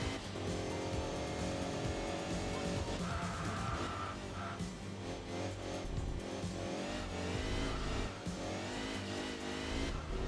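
A wagon's engine races through the twisting Nordschleife in the Enthusia Professional Racing game, revving steadily and loudly with shifting pitch throughout.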